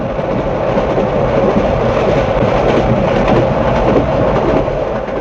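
Steam locomotive 4472 hauls a packed train past at a steady pace, with a loud, continuous rumble and clatter of wheels that never lets up.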